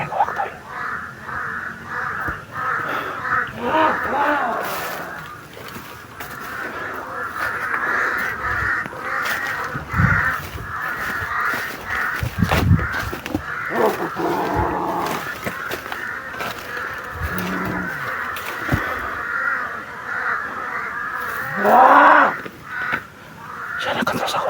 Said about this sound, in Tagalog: Maraming uwak tol.